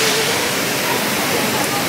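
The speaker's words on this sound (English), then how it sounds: "I'm getting a spray from the waterfall." Steady, loud rushing roar of a waterfall at Disneyland Paris fills the whole clip, a dense continuous wash of falling water close by.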